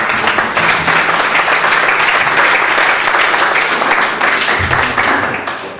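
Loud, dense applause from a church congregation praising Jesus during a French-language sermon, a sustained close roar of clapping with some low hum beneath, easing slightly toward the end.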